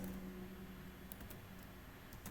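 Keys clatter faintly on a computer keyboard as C code is typed, a quiet run of soft, irregular taps over low background hum.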